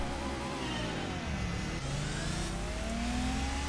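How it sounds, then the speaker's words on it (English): Racing car engines in Gran Turismo 4, a Ford RS200 among the field, droning and rising as they accelerate, a steady moderately quiet roar with pitch sweeps and no talk. "Wow, the sound of those cars."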